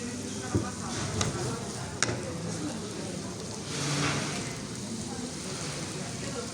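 Onions and then peppers are stirred and fried in a pan at a hotel breakfast buffet. The sizzle is soft and steady, with a few sharp scrapes of the utensil against the pan.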